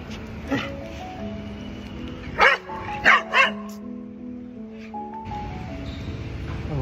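A dog barks in three quick bursts, fairly close, during an outdoor walk, with a steady background hum and some quieter yips before and after.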